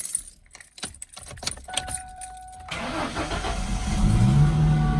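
A car engine with a manual clutch cranks and fires up after a boost from a Lokithor portable jump starter, preceded by jangling keys and clicks, then settles into a loud, steady idle.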